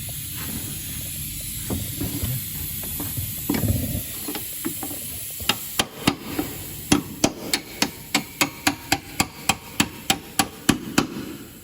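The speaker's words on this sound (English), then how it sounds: "give it a little bit of a tap through with a punch just to get it out" A hammer taps a punch to drive out a rear axle bolt on a 2008–2013 MK7 Ford Fiesta. After a few seconds of quieter shuffling come about fifteen sharp metallic strikes in a steady, fairly quick rhythm, close and clear.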